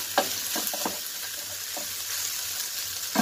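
Ham fries in olive oil in a pan for fried rice, giving a steady close sizzle broken by a few soft scrapes and clinks of stirring, with no voices.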